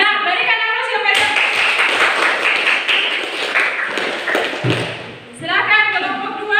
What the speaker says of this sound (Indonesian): Ya, berikan aplaus kepada